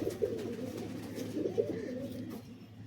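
Red-eyed Giribaz pigeons coo softly in a few low, rolling bursts, close by and fairly quiet against light background noise.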